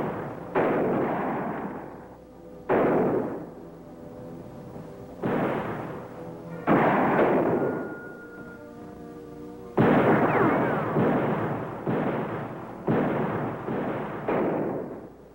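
Rifle shots in a night battle ring out as a series of loud, booming reports, each followed by a long echoing decay, spaced a second or two apart with a rapid cluster near the end.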